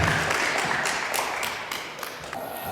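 An audience at a 2019 hall event in Jatiwangi applauds street musicians with a steady wash of dense clapping that holds at an even level throughout and fades a little toward the end.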